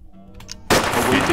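A single loud burst of weapon fire aimed at an alien in the game UFO: Aftermath, erupting suddenly after a brief quiet stretch and sustaining as a dense blast.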